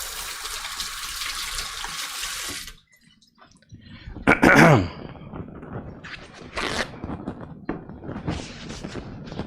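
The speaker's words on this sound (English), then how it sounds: "Just rinse my hands off here before I go leaving more thermal compound on stuff I'm touching." A running tap rinses thermal compound off hands during a gaming PC repair: a steady broadband water rush for under three seconds that cuts off abruptly, followed by clunks and handling noises nearby.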